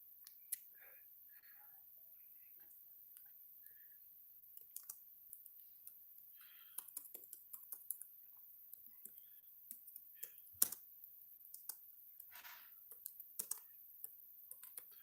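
Keyboard typing on a computer, a quiet indoor patter of light, scattered key clicks that grows denser and more rhythmic in the second half, with no speech over it.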